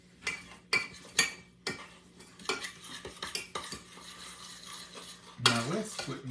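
A spoon stirs a pot of old-fashioned cooked banana pudding, scraping and clinking against the sides in a steady, close, irregular rhythm, with one louder scrape near the end.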